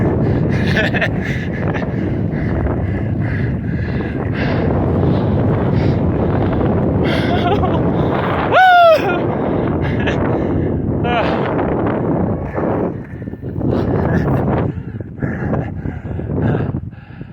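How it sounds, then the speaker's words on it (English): Heavy wind buffeting the microphone while rollerblading outdoors across Utah, a loud continuous rumbling roar throughout, with a brief whistle-like sound midway and voices speaking at times. "The wind's blowing the wrong way."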